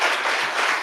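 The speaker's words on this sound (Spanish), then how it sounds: "le pedimos un aplauso entonces a Sebastián Galeani" An audience at an economic policy talk applauds, a dense, loud burst of many hands clapping together throughout the brief moment, with no voices.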